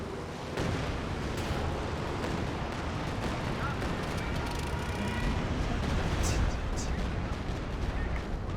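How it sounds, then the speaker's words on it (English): Artillery blasts in Company of Heroes 2 rumble as dense, continuous booming and crackling gunfire that stays loud throughout, with a faint voice mixed in. "The artillery just blasted"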